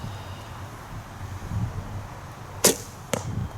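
An arrow loosed from a Black Hunter longbow during outdoor 3D archery gives two sharp snaps about half a second apart, the release followed by the impact, over faint wind and leaf rustle.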